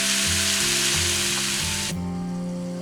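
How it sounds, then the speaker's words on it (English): Minced meat frying in a pan, a loud close sizzle with low tonal hum underneath, the sizzle cutting off abruptly near the end while the hum continues. "Get our mince cooking away here"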